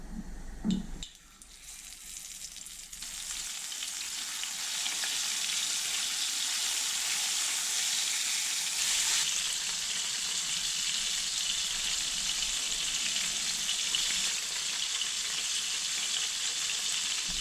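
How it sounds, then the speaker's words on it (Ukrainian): Flour-coated fish sizzles steadily in hot oil in a pan, crackling and hissing continuously after a brief clatter at the start, close and fairly loud. "рибку з усіх сторін обваляю в борошні і буду обсмажувати"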